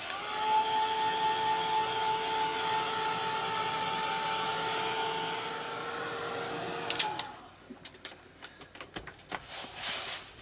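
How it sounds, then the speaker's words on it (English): A heat gun blows hot air over damp paper in a steady, loud whir with a fixed tonal whine, then cuts off about seven seconds in, leaving brief clicks and handling noises. "So I shall just give it a quick blast over with the heat gun"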